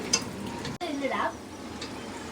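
Curry leaves and chilies fry in a pan for a chicken dish, giving a soft sizzle with a brief stirring scrape. The frying is quiet and close, with a faint voice in the background.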